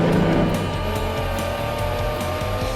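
A race car is driven flat out around a track, its engine a loud sustained drone close up, with a faint rhythmic pulsing running under it and no talk.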